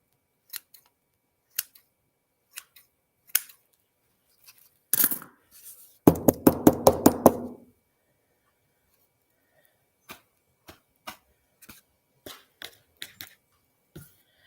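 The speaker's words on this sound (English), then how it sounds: "cut some of those stragglers off there" Scissors snip stray branches off a Christmas tree: scattered single crisp clicks, then a quick rapid burst of snips, then more spaced cuts, close and alone in a quiet room.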